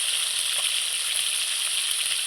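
Pieces of mirka fish fry in hot oil, giving a constant close bright sizzle with occasional soft pops and no voices.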